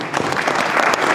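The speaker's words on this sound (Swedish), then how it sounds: "Stora applåd från ICA." Brief burst of dense clapping from an audience at a Swedish jubilee-year opening ceremony, steady and fairly loud throughout.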